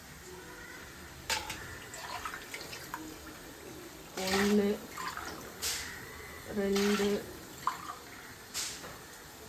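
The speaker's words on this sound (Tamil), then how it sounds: "இப்போ இதுலேருந்து 9 தண்ணி ஊற்றிக்கலாம்." Water is poured from a cup into a pot of basmati rice for chicken biryani. Several short splashing pours are separated by pauses, while a voice counts along quietly nearby.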